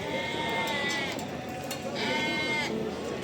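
Goats bleat repeatedly at a livestock market in Barda, in several wavering cries that come close together over a busy crowd murmur.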